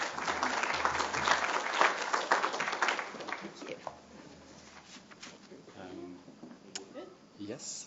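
A conference audience applauds to welcome a speaker to the table, loud and steady clapping for several seconds that fades into a quieter room, with a voice and a few scattered sounds.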